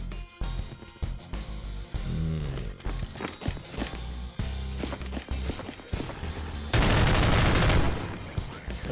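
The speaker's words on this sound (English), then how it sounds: "What the hell are you shooting at, bud?" Rapid video-game gunfire from the game Underyella, with sharp repeated shots in bursts of varying rhythm and a dense, loud sustained volley near the end.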